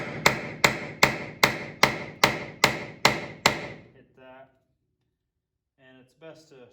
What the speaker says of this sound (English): I'm gonna take a punch and try to get it down in here on this lip. And I got like a little 3-pound sledge.